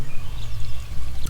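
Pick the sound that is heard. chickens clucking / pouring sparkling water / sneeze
pouring sparkling water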